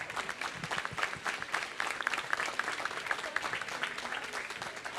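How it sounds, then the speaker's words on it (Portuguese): Church congregation applause during a celebration service for a couple's 30th wedding anniversary, a fairly faint but steady wash of many hands clapping, heard alone. "Aplauda o Senhor."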